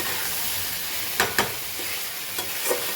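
Chicken liver stir-fries with meat in a pan under a constant close sizzle, and a few sharp spatula scrapes and taps cut through it.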